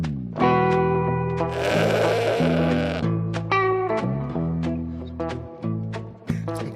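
Goats in a movie clip: loud, wavering bleats repeat one after another over a dense, distorted backing, with no talking.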